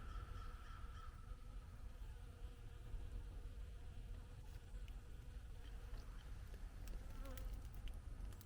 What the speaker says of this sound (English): Look at all the bees on those loquats.